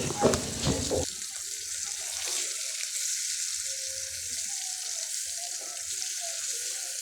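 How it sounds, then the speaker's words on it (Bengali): Hilsa fish pieces fry in hot oil, giving a strong, steady crackling sizzle throughout, with a brief clatter of handling at the start. "প্রত্যেকটা মাছ সুন্দর করে লাল লাল করে ভেজে নিচ্ছি"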